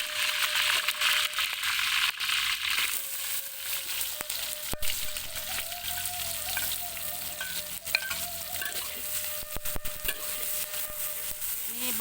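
Shallots frying in oil over a stove for Padang rendang, a steady loud crackling sizzle throughout with occasional scraping stirs and clinks.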